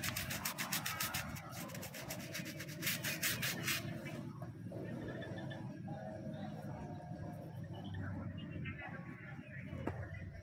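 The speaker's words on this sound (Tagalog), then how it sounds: "So i-try natin ng kuskusin. Sabi nila kuskusin daw eh." Rusty bike part scrubbed by hand after degreaser is sprayed on: a rapid, rhythmic, gritty rubbing that is loud at first and then eases into softer scraping, with someone talking over it.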